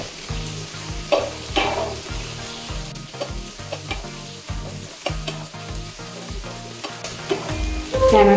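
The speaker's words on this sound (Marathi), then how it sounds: "तर बारीक कापलेला टोमॅटो घालायचा आहे।" Finely chopped tomato fries in a pan for toor dal aamti while being stirred, giving a steady sizzle broken by repeated scraping stirs, with rhythmic background music underneath.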